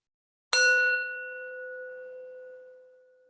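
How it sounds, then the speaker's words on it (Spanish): A single meditation bell is struck once, a bright clear ring that sustains and slowly fades in the quiet, alone without voices. "hasta que escuches el sonido de la campana"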